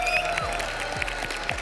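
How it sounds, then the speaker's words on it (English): Applause from a crowd at the BLAST R6 Copenhagen Major esports finals, a steady wash of clapping running through the short moment with no talking over it. "Big round of applause for Felipox."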